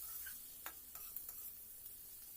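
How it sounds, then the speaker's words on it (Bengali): Vegetables frying in butter in a pan for a masala Maggi noodle dish give a faint, steady sizzle, with a few brief stirring clicks near the middle of the clip. "সবজিটা ভাজার সময় বাটারটা দিচ্ছি"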